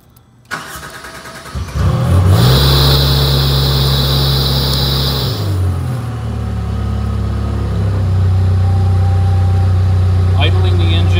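A PowerBoss Nautilus HD machine's engine cranks briefly, catches with a loud surge, then settles into a steady, deep idle with a high whine that fades after a few seconds.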